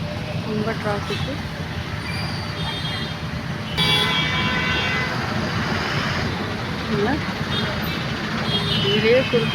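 Heavy city road traffic in Chennai, with a dense steady rumble of engines and vehicles close by, occasional horn-like tones, and people talking throughout.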